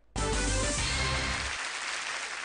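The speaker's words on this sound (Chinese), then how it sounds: "来掌声有请下一组选手。" Loud, dense applause from a studio audience at an er ren zhuan folk-opera competition show bursts in suddenly and holds steady, a close wash of clapping with no voices over it.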